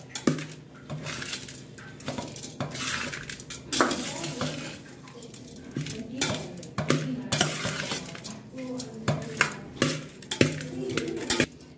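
Cooked rice with fried coconut, coconut oil and salt being stirred in a pan, with repeated metal spoon scrapes and clinks against the pan, a faint sizzle underneath, and no talking.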